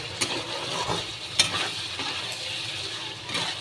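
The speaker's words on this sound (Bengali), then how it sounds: "একটু ক্রমশই নাড়তে হয়, নাহলে নিচে ধরে গেলে পুড়ে যাবে" Food is stirred in a frying pan over a steady sizzle, with a spoon scraping the pan in several clear strokes and a sharper clink partway through.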